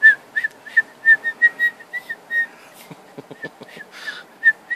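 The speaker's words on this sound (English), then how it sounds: "Who taught you how to whistle like that?" A three-year-old girl whistles a repeated run of short, high notes close by, alone, with a few soft breaths and snorts in between.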